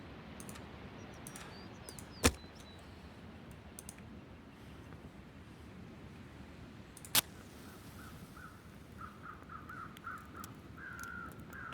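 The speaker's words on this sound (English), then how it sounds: "I hear some birds." Birds call faintly in the wilderness of the video game The Long Dark, with distant caw-like cries over a low hiss and two sharp isolated clicks.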